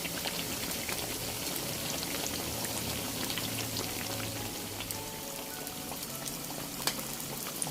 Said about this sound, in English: You can fry this until golden brown or crispy.